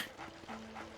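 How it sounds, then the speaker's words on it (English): A ghost dog in the video game Luigi's Mansion barks and whimpers in short yips, fairly faint, with game sounds around it and no talking. "The dog can also sometimes be feisty and annoying to get in one go."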